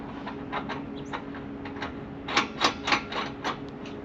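Metal nut being threaded and tightened by hand onto an Andersen weight distribution hitch, with soft scraping through the first half, then a short series of sharper metallic clicks near the end.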